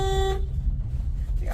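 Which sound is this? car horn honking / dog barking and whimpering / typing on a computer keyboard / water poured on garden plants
car horn honking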